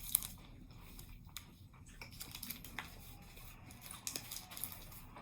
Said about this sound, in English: I see the crunch you're talking about now